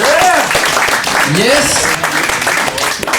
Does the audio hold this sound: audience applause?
yes